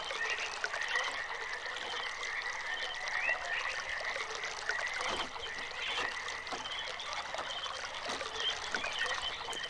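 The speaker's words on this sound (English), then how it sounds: "I'm still hearing the water flowing, so I think that's a good sign" Water flows steadily through pipes in the Channelwood Age of the Myst video game, a continuous trickling and rushing wash that holds at an even level with no pauses.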